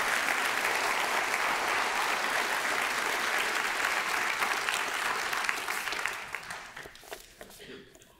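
A church audience breaks into dense, steady applause that carries on for several seconds and then thins and fades out.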